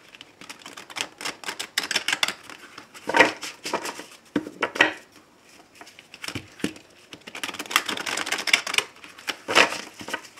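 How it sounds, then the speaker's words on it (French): Large, oversized oracle cards being shuffled by hand, giving crisp papery riffles and soft slaps in irregular bursts, close and fairly loud, with brief pauses between handfuls. "j'ai vraiment du mal à les mélanger, ces cartes"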